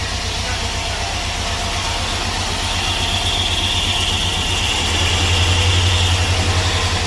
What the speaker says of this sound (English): We don't even have coolant hooked up to it, so it's a blown motor.